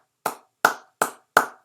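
Four sharp, evenly spaced hand claps, crisp and close, with silence between them and no other sound.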